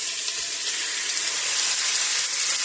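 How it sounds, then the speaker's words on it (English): Lamb searing in a pot of hot olive oil, giving a loud, continuous close-up sizzle and hiss with no talking. "first we will be adding in our lamb to sear"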